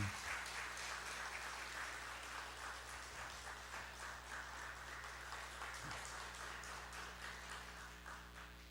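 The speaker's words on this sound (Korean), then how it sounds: "우리 박수로 환영합시다." A crowd claps steadily for several seconds, a dense, even patter of applause heard from a little distance.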